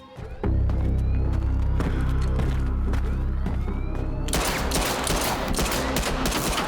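Rapid gunfire from the animated series Invincible: a loud, dense fusillade of overlapping shots and thuds that swells into a sustained, crackling barrage in the second half, with no talking.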